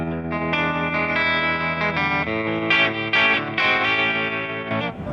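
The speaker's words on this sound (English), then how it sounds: "There's also tremolo on the Artist." A heavily distorted electric guitar plays sustained chords through a Roland amplifier, the tone pulsing with a wavering tremolo, loud and alone.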